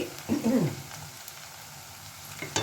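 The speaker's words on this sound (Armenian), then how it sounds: "սոխարացը արդեն լինում է, թողնենք մի քիչ էլ տապակվի" Onions frying in a pan give a soft, steady sizzle for a couple of seconds, close but fairly quiet, with a brief louder stir near the start.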